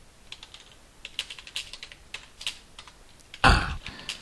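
A computer keyboard is typed on while a contact note is entered, an irregular patter of soft keystrokes up close, ending in one louder thump.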